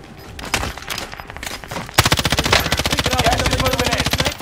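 Automatic gunfire in Call of Duty Warzone rattles loud and close, with scattered shots at first and then a sustained rapid burst from about the halfway mark to the end.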